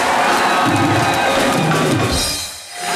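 Studio audience at a comedy show cheering and clapping for a music duo, a loud, dense crowd roar filling the clip before easing off near the end.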